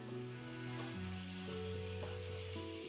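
Mangoes, mustard seeds and spices sizzle steadily in a hot pan while being stirred, a continuous close frying hiss with no talk.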